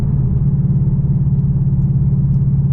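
Ford 5.0 V8 car engine fitted with a Ford Performance Stage 3 kit, heard from inside as a steady, loud low rumble with a pulsing throb while cruising near 40 mph before accelerating.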